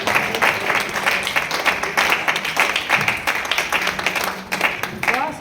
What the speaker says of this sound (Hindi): जोरदार तालियां आपकी बजे